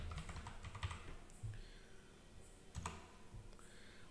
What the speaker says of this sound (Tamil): XAMPP-னு டைப் பண்ணுங்கள்.